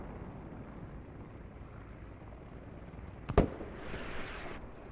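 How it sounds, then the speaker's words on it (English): Mortar artillery barrage in the military shooter game Squad at an airport battle: one sharp, loud blast rings out over a steady low rumble of distant combat, followed by a brief hissing tail. "Mortar barrage. This is command artillery."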